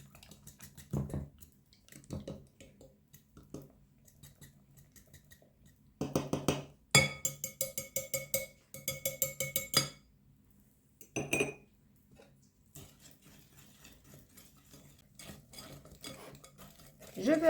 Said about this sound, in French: Je vais écrabouiller un peu avec la fourchette.